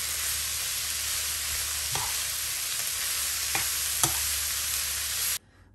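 Lightly salted vegetables for an eggplant appetizer fry in a pan with a constant, close, crackling sizzle, punctuated by a few distinct utensil scrapes as they are stirred, before the sound cuts off abruptly at the end.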